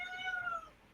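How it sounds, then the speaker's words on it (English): A cat lets out a single short, clear meow, a close but fairly quiet drawn-out cry that fades away, with no talk over it. "And yes, that was a cat."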